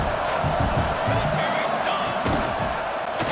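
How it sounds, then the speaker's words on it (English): A football stadium crowd roars for the defense near the red zone during a UTEP Miners game, a steady, dense wash of cheering with scattered whoops and a few sharp bangs throughout. "the crowd coming to life here, trying to help this defense down in the red zone"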